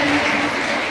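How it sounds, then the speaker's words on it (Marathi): Audience applause for Sayali at a women's get-together gathering, a dense, steady wash of many hands clapping at moderate loudness, continuous through the short moment without pause. "सायलीसाठी जोरदार टाळ्या सगळ्यांना"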